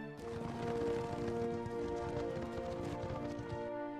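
Many horses' hooves clip-clop at an oasis in a steady, busy patter over a sustained musical backdrop.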